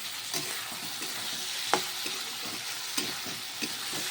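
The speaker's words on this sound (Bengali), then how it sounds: "আলু পেঁয়াজটা আমি ভাজা ভাজা করে নিচ্ছি" Potatoes and onions fry in a pan with a steady close sizzle, broken by several sharp scraping stirs of a spatula against the pan, with no talk.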